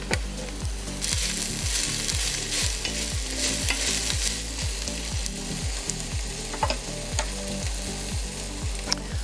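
Broccoli florets and stems sizzle in oil in a hot pan while a utensil stirs them in a steady, regular scraping rhythm, close and moderately loud.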